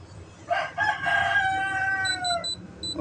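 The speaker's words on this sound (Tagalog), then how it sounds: "Pasensya na kung maraming tumitalak na manok." Roosters crow nearby in a farmyard, one long loud cock-a-doodle-doo rising and falling over a couple of seconds, followed by short repeated high calls from other birds.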